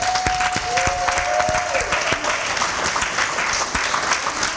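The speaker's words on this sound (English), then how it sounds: "Can I just have you give a round of applause?" A church congregation at a morning service with a band claps in a loud, close round of applause, a sustained crowd clatter with a brief held tone early on.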